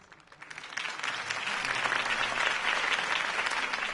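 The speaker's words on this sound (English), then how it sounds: "could have heard that applause" Crowd applause following Harvey Dent's campaign speech in Batman: The Telltale Series, swelling quickly from a few claps into a dense, sustained ovation.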